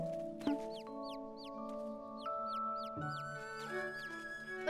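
A cartoon hen gives a run of bright, squeaky clucks and chirps, repeated in quick rising figures over sustained musical tones, with no talk during the calls.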